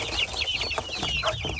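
Chickens cluck and call close by in a farmyard, a rooster of a knockout breed among young chicks, short repeated clucks with no speech.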